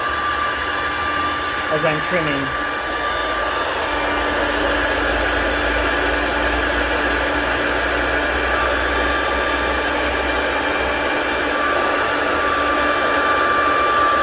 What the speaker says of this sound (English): this hair dryer helps to blow the crumbs away